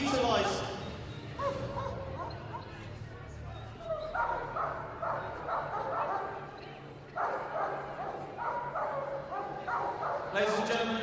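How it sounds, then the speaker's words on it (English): Several police service dogs bark and yip in repeated bursts, fairly close, at an RAF display, with a crowd murmuring in the background throughout. "So here behind me we have 2 service police dogs."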